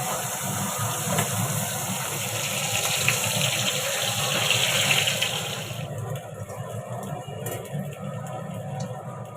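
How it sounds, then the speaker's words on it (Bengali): Prawns coated in salt and turmeric fry in hot oil, a dense, steady sizzling hiss heard up close that softens partway through, with no voices. "নুন হলুদ মাখানো চিংড়ি মাছটা ভেজে নিচ্ছি।"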